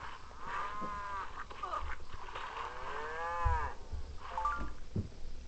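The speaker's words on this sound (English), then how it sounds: "And a cow!" A cow in the video game Survivalcraft gives repeated drawn-out moos, clear and close over a low game background.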